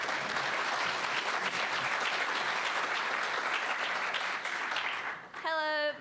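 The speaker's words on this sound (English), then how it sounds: "Give them a round of applause." Dense, steady round of applause from the audience at a bipartisan community forum, filling the space for several seconds before stopping abruptly, with a voice starting to speak right at the end.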